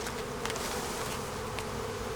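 Honey bees buzz continuously and close by during a hive honey harvest, a dense, even drone with individual insects briefly swelling louder as they pass near.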